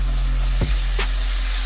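A cheeseburger patty sizzles steadily in a hot pan as it chars, a constant crackling hiss close by, with a couple of brief low knocks from a utensil partway through.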